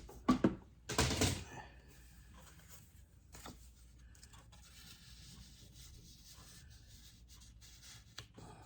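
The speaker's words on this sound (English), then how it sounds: "I'm going to go ahead and cut a straight line across there." Paper being cut in a straight line across for spooky-themed scrapbook layers, with a couple of loud close slicing or snipping strokes at the start, then faint scattered rustles and a small tap near the end.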